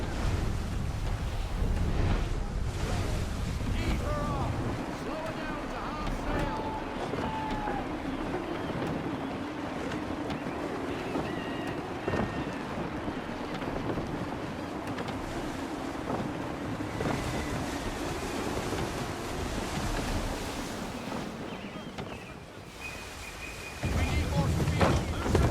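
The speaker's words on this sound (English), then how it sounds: "Wind looks to be shifting. Stay alert, Connor. Gusty winds can be difficult to manage." Gusty wind and rolling waves while sailing a ship in Assassin's Creed 3, a steady broad rush of wind and surf holding for the whole stretch with a brief dip near the end.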